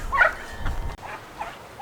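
Backyard chickens give a brief, close cluck and a short gobbling call, then a fainter second call, in a steady rain near a duck pen.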